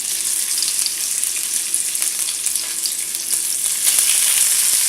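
Wagyu beef tongue fries in a hot pan over high heat, giving a loud, dense, steady sizzle with crackling pops that swells slightly toward the end, with no talking.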